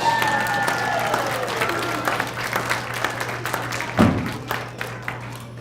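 A family fun festival audience at a magic show breaks into applause, a diffuse wash of clapping that tapers off, with a sharp thump near the end.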